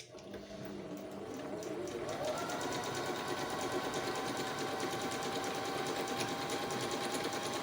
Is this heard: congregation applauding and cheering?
no